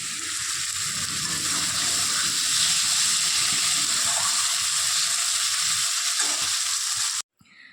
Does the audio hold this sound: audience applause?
no